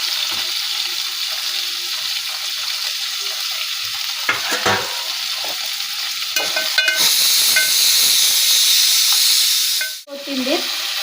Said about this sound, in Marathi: आता ह्याला आपण 2-4 मिनिट असंच तेलात फ्राय करून घेऊ.